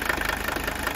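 A Mercedes 300TD wagon diesel engine running on vegetable oil idles with a steady, faint, rapid knocking clatter recorded up close.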